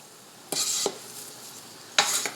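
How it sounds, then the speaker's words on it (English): Beef and broccoli with vegetables stir-fry in a pan over a quiet background, with three short bursts of sizzling and scraping as a utensil stirs the food. "as the meat browns, we'll give it a stir, and we'll also be sure to stir the vegetables occasionally too"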